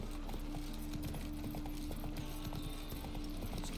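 Roach, Geralt's horse in The Witcher 3 video game, trots along with steady rhythmic clip-clopping hooves, close and continuous under a constant low hum of game music and ambience.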